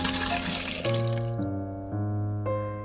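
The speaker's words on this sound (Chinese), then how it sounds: "烧开之后全部倒入电饭锅里" Boiled stir-fried ingredients and their cooking liquid are poured into a rice cooker, a close, continuous splash and glug of liquid that settles into ringing, resonant pouring tones over about three seconds.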